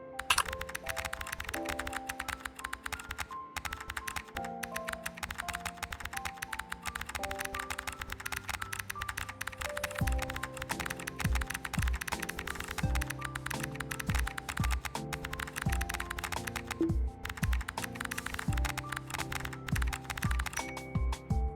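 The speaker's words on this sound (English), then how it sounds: "Man, my spacebar does sound a lot better than it did, like, stock." Keystrokes clatter steadily on a new mechanical keyboard whose spacebar is padded with foam tape, dense rapid clicks running throughout over a background of tonal music.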